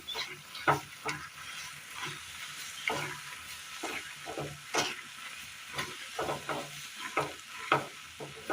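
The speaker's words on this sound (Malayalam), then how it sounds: "ചീകി വെച്ചിരിക്കുന്ന ബെല്ലം കൂടി ഇട്ട് കൊടുക്കാം. നന്നായി ഇളക്കി കൊടുക്കാം." Grated jaggery stirred into a jackfruit mixture in a pan, a spoon scraping and sloshing through the thick mass in repeated strokes with soft sizzling underneath, close and moderately loud.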